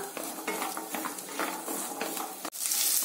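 Garlic sautés in hot oil for a Tamil garlic chutney, a steady loud sizzle broken by repeated scraping stirs of a spatula in the pan, with a brief sharp break near the end before the frying continues.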